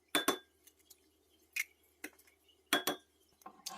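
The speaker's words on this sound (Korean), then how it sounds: "그래서 계란을 6개 깰게요" Six eggs cracked one after another against a bowl for a cheese rolled omelette, giving a run of sharp, close taps and clinks with short pauses between, no talking.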